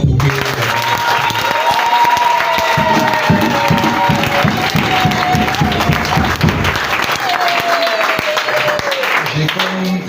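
A church congregation at a Sunday service applauds and cheers loudly, with sustained clapping and crowd shouts filling the room, while a voice carries on over the noise.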